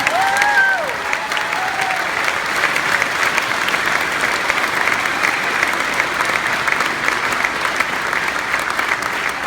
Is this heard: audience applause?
yes